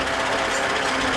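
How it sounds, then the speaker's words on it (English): A 1970 Land Rover Series 2A with locked hubs in four-wheel-drive low range runs down a hill on engine braking, giving a steady, close mechanical whine and drone that holds even throughout. "Now we're just using engine braking to come down the hill."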